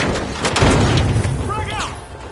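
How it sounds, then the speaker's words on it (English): A frag grenade explodes in the video game The Finals with a loud low boom and rumbling tail, and a brief voice-like chirp follows near the end, heard over game sounds. "Throwing a frag."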